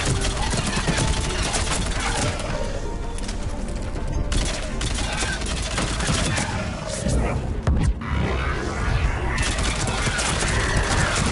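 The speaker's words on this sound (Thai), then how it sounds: "ปืนใหม่นั่นโคตรดีถ้าเสียงมันไม่กรุงกริ้งไปหน่อยนะ" Rapid gunfire from a new gun in Mass Effect 3 rattles almost nonstop through dense, loud combat noise, with bursts and impacts blending into a steady wall of battle sound.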